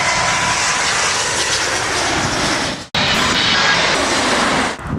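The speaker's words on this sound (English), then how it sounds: "All we have here is a cheeky little plane, the B7-4." A jet airliner passing at Heathrow makes a loud, continuous broadband engine roar, close and sustained, with a brief dropout partway through and no talking.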